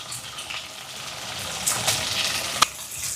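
Onions, green chilies and curry leaves sauté in hot oil for a curry, producing a soft continuous sizzle with a few sharp crackles and a clink near the end, heard alone.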